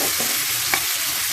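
Spices and potatoes fry in a pan, giving a continuous close, even sizzle with faint stirring scrapes.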